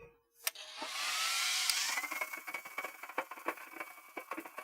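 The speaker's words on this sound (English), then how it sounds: "Grab the handy dandy hairdryer." A handheld hair dryer, used while making a custom camera strap, switches on with a sharp click and blows with a steady whoosh, then winds down into a series of faint taps and clicks. The whole sound is quiet.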